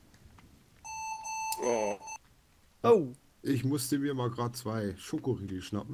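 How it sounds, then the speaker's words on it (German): A telephone rings with a steady electronic tone in a survival video game set in a forest, a single ring lasting about a second, loud and alone before people start talking. "Und das war ein Telefon."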